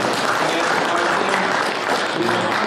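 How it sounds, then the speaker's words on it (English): A crowd at an outdoor library groundbreaking ceremony claps loudly and continuously, a dense burst of applause with no talking over it. "you can applaud for that"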